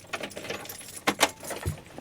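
Keys jangle in a few quick metallic bursts near a campervan, loud and close, with brief shakes spaced over a couple of seconds and no talking.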